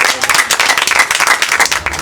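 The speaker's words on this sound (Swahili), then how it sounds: "Makofi." A crowd gathered at a community meeting claps together in quick, irregular bursts, loud and close, filling a short moment with no voices over it.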